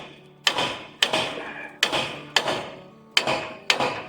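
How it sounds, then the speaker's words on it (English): A hammer strikes a car's rear brake parts in six heavy metallic blows. They come at a fairly even pace with brief pauses, and each ringing impact decays quickly. The sound is close and loud, with no talking. "I got a bigger hammer now"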